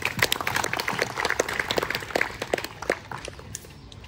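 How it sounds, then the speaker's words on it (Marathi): Audience applause for Mihir, a newly qualified commercial pilot being honoured in his home village of Bhatale: dense, steady clapping from a crowd that carries on through the whole stretch and thins slightly toward the end. "मी तुम्हाला रिक्वेस्ट करतो की प्लीज जोरात टाळ्या वाजवा"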